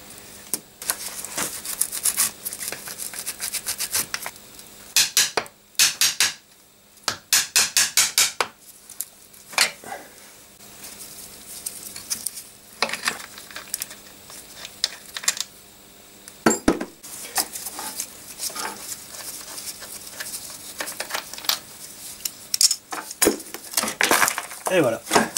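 Tools work loose the fasteners on the banana-shaped cylinder block of a 1954 Panhard Junior engine during gearbox removal. Metallic clinks, taps and clanks come in irregular clusters between quieter gaps.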